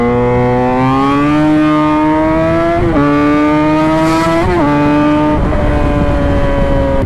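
Motorcycle engine droning loud and close while riding, its pitch stepping up through gear changes with brief dips between, a steady tonal roar throughout.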